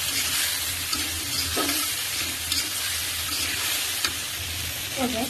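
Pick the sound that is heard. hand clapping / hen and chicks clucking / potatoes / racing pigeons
potatoes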